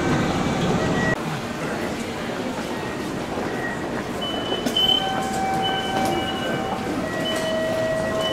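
A Kintetsu Nara Line train pulling into underground Nara Station, with a steady loud rumble of wheels, faint brake squeals and tones near the end, and someone speaking briefly over it.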